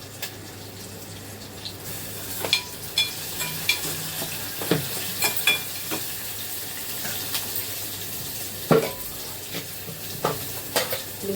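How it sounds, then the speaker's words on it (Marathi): Ginger garlic paste sizzles in a pan while being stirred, with a low steady frying hiss broken by repeated scraping and clinking strokes of a spoon against the pan, close and without talk. "थोडे आलं लसणाची पेस्ट टाकली"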